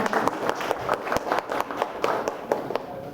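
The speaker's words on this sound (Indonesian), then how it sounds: "Dari tepuk tangan terlebih dahulu." A small audience claps at a tourism office outreach meeting in a village hall, a few sharp, loose hand claps spaced unevenly over a few seconds, fairly close and moderately loud.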